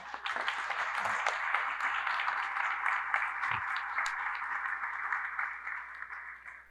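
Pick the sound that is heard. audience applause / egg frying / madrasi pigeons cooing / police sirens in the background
audience applause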